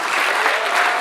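A hall audience at a sustainable entrepreneurship evening applauds loudly and densely, a continuous wash of clapping from a large crowd for the whole short stretch.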